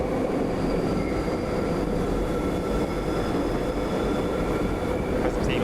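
A simulated train with a modded sound package in Train Sim World 4 rumbles steadily, a dense low rolling roar with faint high whining tones running through, close and continuous.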